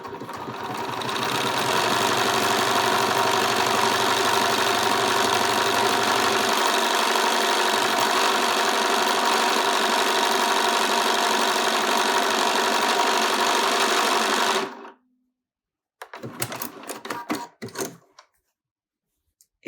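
A Bernina sewing machine stitches an automatic buttonhole, a loud, continuous rapid whir for about fifteen seconds that stops abruptly, followed by brief clicks and mechanical rattles.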